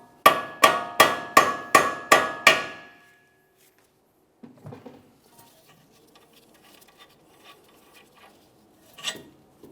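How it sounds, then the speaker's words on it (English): Six sharp, evenly spaced metallic hammer taps ring out on a tie rod stud of a 2014-2019 Toyota Corolla, followed by quieter clinks and handling noise in the garage. "Otherwise, we'll use a hammer, cause some vibration."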